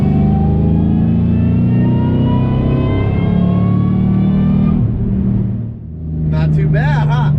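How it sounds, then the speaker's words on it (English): Supercharged 2009 Ford Mustang GT race car engine revving loudly up close, a steady high rev held for several seconds, then dropping off briefly before climbing into quick sharp blips. "let's listen to this supercharger"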